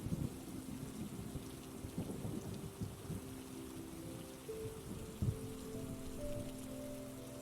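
Steady rain patters on surfaces while low rumbles of thunder roll through a storm, the downpour continuous and fairly soft, with no voices.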